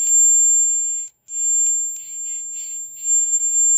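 A JBL L100 Century first-generation loudspeaker's refreshed midrange driver plays a test tone: a loud, steady, piercing pure tone that cuts out once briefly, with faint hiss beneath.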